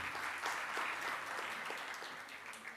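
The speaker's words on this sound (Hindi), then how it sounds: "जोरदार तालियों से आपका स्वागत।" An audience applauding to welcome a guest at a seminar and song event, sustained clapping from many hands, fairly faint and distant, with no speech over it.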